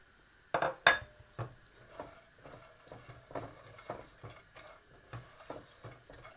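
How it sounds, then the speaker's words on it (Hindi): Nuts frying in a spoonful of desi ghee in a pan, heard as soft sizzling under repeated clinks and scrapes of a spoon stirring against the metal, close and fairly quiet. "इनको 1 मिनट के लिए फ्राई करके निकाल लेंगे"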